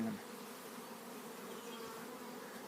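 A steady, low insect buzz hums continuously, like bees droning nearby, with no voices.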